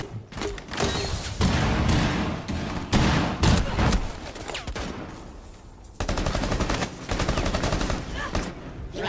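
Gunfire in the video game Rainbow Six Siege: dense, loud, sustained automatic fire and overlapping shots, with mechanical clatter and a brief lull before the shooting resumes.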